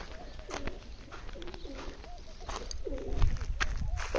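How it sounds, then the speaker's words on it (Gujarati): Pigeons inside a dry village well coo repeatedly in soft, rolling calls with faint shuffling and wing movement, heard from above at moderate distance. "કબૂતર આટા મારે છે આમાં તો."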